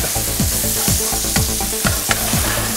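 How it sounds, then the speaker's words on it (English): Pancetta fries in a hot pan, giving a loud, steady close-up sizzle with stirring and scraping sounds across the short stretch, no talking. "Hot pan before the pancetta, come on, guys. I want to hear the frying pan singing."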